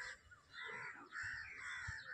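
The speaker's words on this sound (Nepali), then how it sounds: "काग कसरी छिल्लेको" Crow cawing in the evening near blooming mango trees on a Nepali farm, a few faint, hoarse caws in quick succession over a quiet background.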